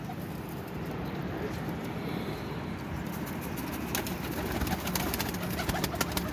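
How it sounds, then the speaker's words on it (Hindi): Pigeons coo softly amid steady background noise, with faint scattered pattering and rustling growing toward the end. "माशाल्लाह अच्छे कबूतर हैं"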